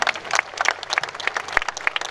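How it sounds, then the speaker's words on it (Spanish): Crowd applause at a cycling award ceremony honoring a junior rider, a lively patter of hand claps with individual sharp claps standing out, fairly close and sustained throughout. "Fuerte el aplauso, señores, para este gran juvenil."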